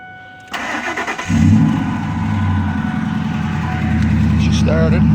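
A 2002 Ford F150 engine cranks briefly, then catches and settles into a steady, close idle, just after its fuel pump and fuel tank were replaced.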